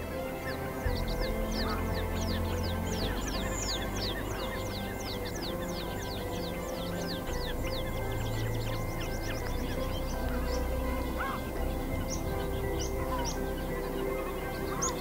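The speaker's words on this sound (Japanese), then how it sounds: "鳥も鳴いてて" Many birds call and chirp outdoors in Iceland's mossy countryside, a dense, steady chorus of short high calls over a low background of wind.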